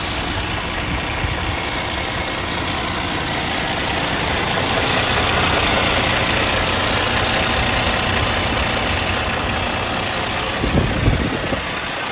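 Diesel engine of a 2016 International 9900 triaxle truck idling, a steady, dense rumble close by that swells slightly midway, with a few knocks near the end and no talk.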